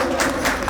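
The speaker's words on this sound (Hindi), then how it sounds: "सब कोई लोग ताली बजाएंगे" A congregation claps together during a church inauguration ceremony, a broad burst of hand clapping with faint crowd murmur.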